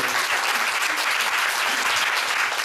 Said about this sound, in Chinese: 那是不是大家可以给他一个掌声